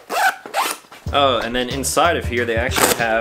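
A YKK zipper on a sling bag of Kodoro fabric rasps open in two quick close pulls, followed by someone talking.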